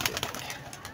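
Soft pigeon cooing repeats in short bursts through a steady background hiss, close and moderately quiet.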